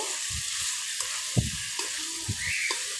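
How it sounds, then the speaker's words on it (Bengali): Egg fries with kayta in a pan, a constant close sizzle broken by a few soft scrapes and knocks of stirring. "একটু নেড়ে চেড়ে দিয়ে"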